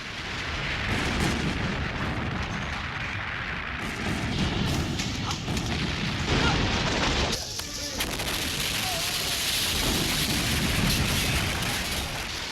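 A large pyrotechnic explosion set off for a film stunt, a dense, roaring blast of rumble and crackle that fills the whole stretch, loud and continuous with a brief dip partway through.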